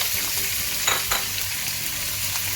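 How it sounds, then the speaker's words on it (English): Two large onions sizzle steadily in a pan of about three tablespoons of oil, a continuous close frying hiss with a couple of brief louder crackles as they are tossed, no voices. "See, I have taken only 3 tablespoons of oil for frying. The same pan I am going to add 2 large onions."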